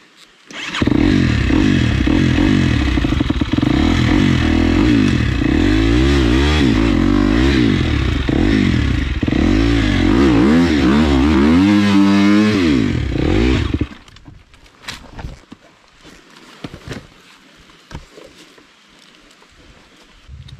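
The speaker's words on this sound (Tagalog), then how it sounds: "naririnig ko yung mga motor nila sa taas umiiyak" Husqvarna dirt bikes rev hard on a steep hard trail, a loud, wavering engine whine rising and falling for several seconds before cutting off abruptly, leaving faint scattered noise.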